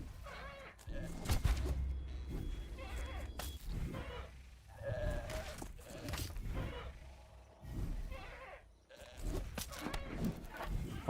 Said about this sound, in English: Holy smokes, is a goat stampede